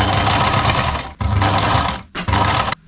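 A sewing machine drives a seam joining a panel to a large, heavy sail cover, running loud and close in three steady bursts separated by brief pauses, with no talking.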